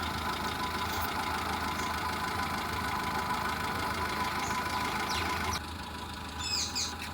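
A 2008 Hyundai i10 Magna petrol engine runs at idle, a steady mid-pitched hum with a faint rhythmic tick, heard close and continuous, with brief birdsong near the end.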